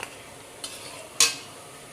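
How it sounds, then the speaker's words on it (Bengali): Potato fritters (aloo bora) fry in oil until deep reddish-brown. A low, steady sizzle runs throughout, broken by a couple of brief utensil clinks and scrapes. "একদম পুরো লাল লাল করে ভেজে নিলাম।"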